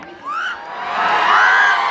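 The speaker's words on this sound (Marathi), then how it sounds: "जोरदार टाळ्या होऊन जाऊ देत." A Marathi stage show crowd cheers loudly with whoops and high shouts rising over a broad roar of voices, the noise swelling and sustaining to the end.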